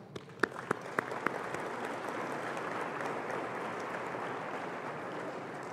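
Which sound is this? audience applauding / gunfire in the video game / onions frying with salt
audience applauding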